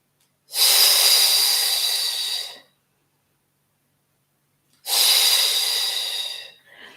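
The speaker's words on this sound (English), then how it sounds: "Inhale for a slow count of 5 and exhale for a slow count of 5." A slow, steady breath in a Pilates session, heard as two long, close, airy breaths, each about two seconds, with a quiet pause between them and no talking.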